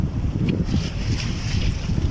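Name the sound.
wind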